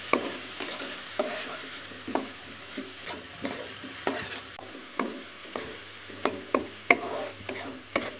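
A spatula stirring food in a pan with mushroom stock and seasoning, a regular series of scraping, tapping strokes about twice a second over a soft sizzle.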